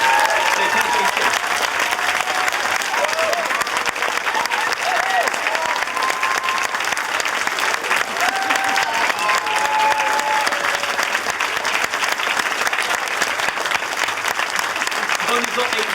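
Sustained audience applause for a volunteer after a classroom-style demo challenge, a dense steady wash of clapping at constant loudness lasting the whole stretch, with faint voices mixed in underneath.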